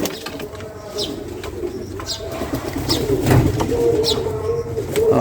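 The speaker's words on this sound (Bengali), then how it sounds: "মুরগির অত্যাচার অবশ্য কবুতরগুলো অতিষ্ঠ হয়ে গেছে" Pigeons coo in a loft with soft repeated rolling calls, near and fairly loud, alongside faint chirps and a little wing movement.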